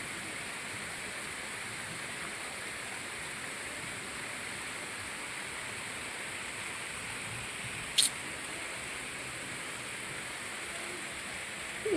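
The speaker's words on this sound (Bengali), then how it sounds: "বাইরে বৃষ্টি হচ্ছে" Steady rain falling outside, an even wash of soft hiss with no voices, and a single brief click partway through.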